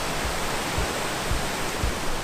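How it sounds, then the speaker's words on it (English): A waterfall near Lochgoilhead in the Scottish Highlands roars as a steady, broadband rush of falling water, loud and close, with soft low thumps pulsing every half second or so and no voices. "It is a lovely waterfall though."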